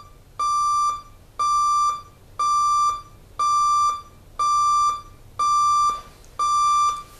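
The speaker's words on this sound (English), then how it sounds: "So I've got an alarm clock now I've been using." An alarm clock beeps in seven evenly spaced bursts, each a rapid, high-pitched electronic pulse train, with faint hum between them.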